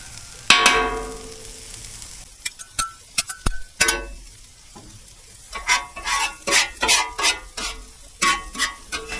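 Eggs frying on a Traeger Flatrock griddle under a low sizzle, while a metal putty knife or paint scraper scrapes and taps the steel surface in bursts of clinks and rhythmic scraping strokes, close up, no talking.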